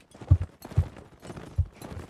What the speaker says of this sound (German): Hier ist ein Pferd, hier ist ein Pferd, ein Pferd.